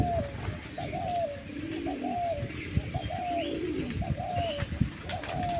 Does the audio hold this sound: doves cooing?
yes